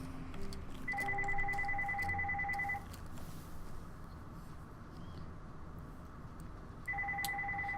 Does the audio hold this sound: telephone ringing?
yes